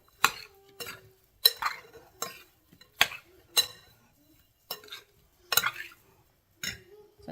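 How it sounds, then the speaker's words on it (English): Spoon stirring peach pie filling lightly in a bowl, giving a series of soft scraping, clinking strokes in irregular bursts, close and fairly quiet with short pauses between them. "I'm gonna just take a spoon and just kind of lightly stir it, with trying not to damage the peaches"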